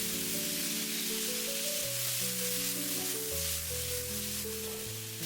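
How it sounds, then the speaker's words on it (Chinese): Drained bitter melon sizzles loudly and steadily in a hot wok during a quick stir-fry, a dense continuous crackle with faint stirring, while soft background music plays. "把控干水分的苦瓜直接倒在鍋裡，快速翻炒均勻，把苦瓜表面的水汽炒乾一些"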